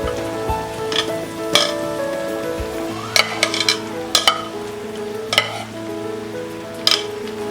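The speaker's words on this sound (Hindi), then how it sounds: "अब हम इसमें डालेंगे ये पाव के पीसेस।" Pav bread pieces tossed into a pan of upma base and stirred, giving a soft steady sizzle with repeated sharp scrapes and clinks of the spoon against the pan, close and alone without talk.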